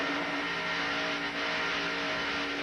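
A pack of NASCAR Winston Cup stock cars races at speed, producing a dense, steady engine drone with sustained tonal whine, fairly distant and without voices.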